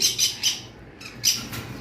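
A pair of green Fischer's opaline lovebirds squawking in sharp, shrill bursts, about five calls in quick succession with a short pause midway, close by.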